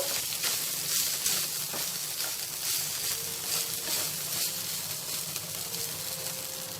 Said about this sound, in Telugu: ఇప్పుడు ఈ రైస్నంతా మనము కొద్దిసేపు ఫ్రై చేసేసుకుందాము